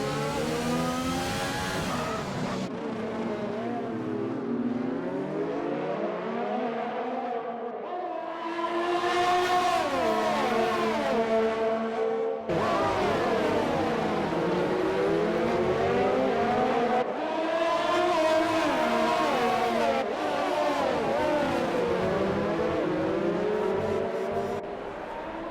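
Race cars in an Xbox One Formula-style racing game on the Singapore street circuit, high-pitched engines revving and shifting continuously as cars run nose to tail, loud and steady throughout.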